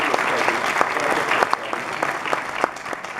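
Audience applause fills the room, a steady dense clapping from a crowd that holds fairly loud throughout with no voices over it.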